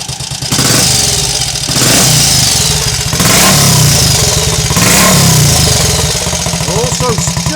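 A Triumph Scrambles Cub replica motorcycle runs with a steady loud single-cylinder thump, rising in a few revving pulls and settling back with a burbling beat between them.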